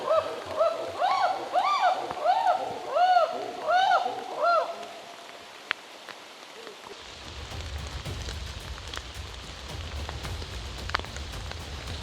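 Heavy rain falls in chimpanzee territory in Africa, a dense close patter and splatter that comes in after a few seconds, with a voice talking over it beforehand.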